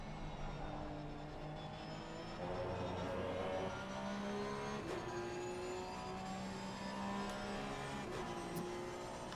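BMW and Porsche GT race cars lapping Kyalami in Assetto Corsa Competizione, engines droning and shifting pitch as they accelerate and change gear, steady at a moderate distance while a commentator talks over them.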